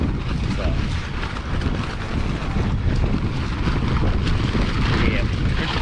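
Strong wind buffeting a microphone outdoors on a van trip, a loud continuous rumbling roar with gusty swells and broadband rush throughout.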